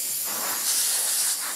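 Compressed air blasting water off a Porsche 997 during a detailing wash, a steady close broadband hiss that swells briefly in the middle.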